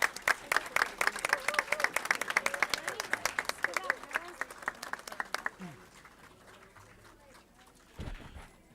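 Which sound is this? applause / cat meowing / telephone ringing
applause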